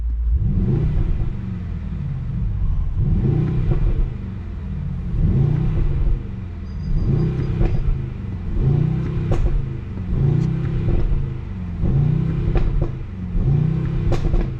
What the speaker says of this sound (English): Nice pops and bangs.